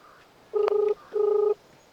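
Two short electronic dialing tones, a brief beep followed by a slightly longer one, clear and close against faint background hiss.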